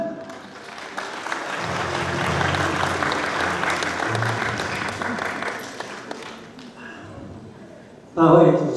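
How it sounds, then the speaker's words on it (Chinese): Warm audience applause at a charity pageant final swells and holds steady for several seconds, then fades, ending with an announcer's voice over a microphone. "热情掌声"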